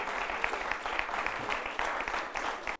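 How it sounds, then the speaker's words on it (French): Audience applause at a televised talent competition final, dense and loud clapping sustained for a few seconds before cutting off abruptly. "Merci d'applaudir très très fort pour l'ORTB."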